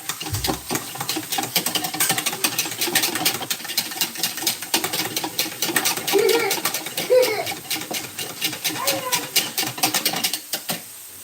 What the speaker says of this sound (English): I'm just going to whisk it.